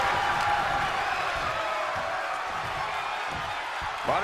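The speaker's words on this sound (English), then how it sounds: "With every move you make, you hear this capacity crowd following you on that journey." A large capacity crowd at a women's wrestling match cheers and roars continuously, a dense, loud wash of massed voices with occasional whoops, without clear individual speech.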